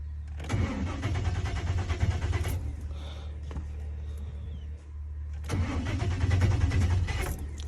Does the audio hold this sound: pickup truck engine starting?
yes